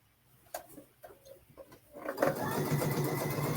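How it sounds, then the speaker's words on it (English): A Bernina Luminaire or Sol sewing machine stitches quilt binding, a few light ticking stitches at first and then a steady close whirring run that keeps going. "I'm used to sewing on my own machine."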